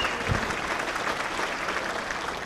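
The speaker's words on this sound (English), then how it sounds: "Another round of applause for Rita." Steady round of applause from guests at an Oldtimers baseball banquet, even continuous clapping throughout with no one speaking over it.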